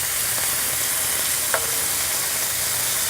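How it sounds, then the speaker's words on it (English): Beef frying in a hot pan for a hot beef sundae, a continuous dense hiss and sizzle with a faint scrape or tap partway through, close and steady. "we'll let that meat cook just a little bit more."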